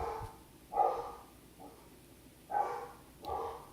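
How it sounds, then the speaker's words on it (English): Dogs barking in the background of a home room, several separate muffled barks in two clusters, moderately distant and alone with no talk over them. "sorry for my dogs barking."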